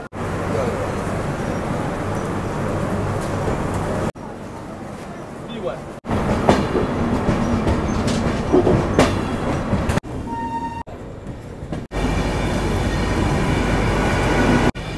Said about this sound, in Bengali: ঠিক সঠিক সময় আমাদের ট্রেন ছেড়ে দিল শিয়ালদা স্টেশন থেকে